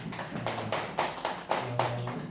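Audience members at a writing-class lecture clap in a rhythmic pattern, bursts of claps arriving at regular intervals with brief gaps, while a low hum sits underneath.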